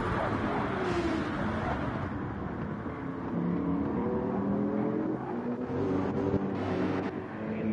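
Race car engine in Gran Turismo 7 at Daytona: a steady, loud engine drone whose pitch rises and falls as it shifts, running continuously with no talk over it.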